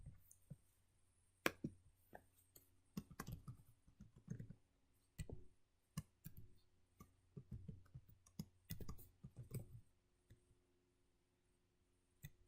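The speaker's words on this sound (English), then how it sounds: "Then I'm going to type this into my code." A computer keyboard is typed on while entering code: irregular, soft clicking keystrokes in short clusters with pauses between them, close but quiet.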